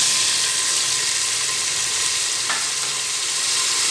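Tomato paste sizzles and fries loudly with spices in a pan for hotel-style mutton karahi, a dense continuous hiss up close with a brief stir partway, no talking.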